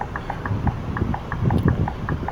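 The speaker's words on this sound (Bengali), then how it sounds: "এই ডিপারটার সাউন্ডটা শোনো কীরকম সাউন্ড" Dipper switch of a bus in a bus simulator game, clicking in a steady rapid series of light ticks over a low background rumble.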